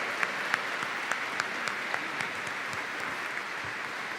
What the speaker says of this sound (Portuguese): Uma salva de palmas para os diáconos.